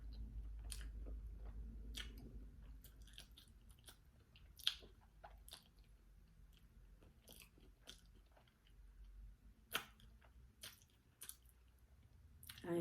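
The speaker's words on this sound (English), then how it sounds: "But I'm eating my rice and the meat." Close, quiet chewing of rice and sausage during a mukbang meal, soft wet mastication with a few sharper bites and crunches scattered through the quiet.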